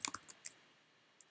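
Soft, quick computer keyboard keystrokes: a short cluster of clicks, a pause, then a couple more taps, faint and close with no talk over them.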